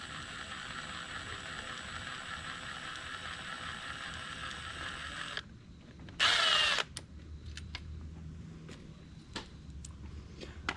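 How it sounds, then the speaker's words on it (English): An impact driver or power tool works the cover screws of a 2016 FC250 motorcycle, a steady whirring mechanism followed by one loud half-second burst and scattered small clicks and taps nearby. "I wouldn't normally use an impact, but I'm going to."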